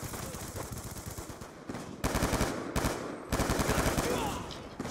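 Rapid automatic gunfire from the video game Black Ops II, dense bursts of shots with brief pauses between them, loud and close throughout the mix.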